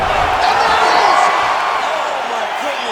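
A crowd roars and cheers at the end of a UFC fight in EA Sports UFC 5, a loud, steady wash of arena noise that eases slightly as it goes on.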